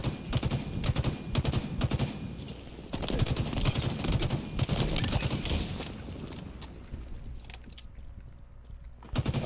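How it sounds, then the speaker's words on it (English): Rapid bursts of gunfire from the Halo Infinite shotgun during a ranked free-for-all match, dense and loud with overlapping clattering shots and game effects filling most of the clip. "Hard to aim with the shotgun."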